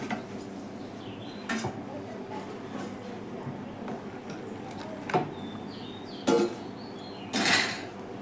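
A metal lid set down over a pot of simmering lentils with stems and jackfruit seeds, heard as a few faint, sharp clinks and clatters scattered across a quiet kitchen background.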